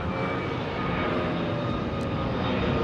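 Rolls-Royce-powered Boeing 777-200 at London Heathrow, a constant broadband jet engine rumble and roar filling the scene steadily from start to finish, moderately close, with no voices.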